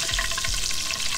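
Oil sizzles and crackles steadily as fish fillets fry in a pan, with a few soft low knocks underneath.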